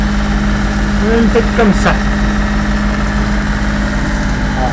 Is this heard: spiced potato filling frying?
no